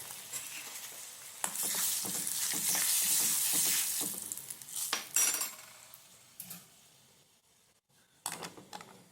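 Chillies dropped into hot oil for an okra buttermilk curry set off a loud, bright sizzle that swells for a few seconds, then fades into scattered spoon-and-pan clatter as the pan is stirred; no one speaks.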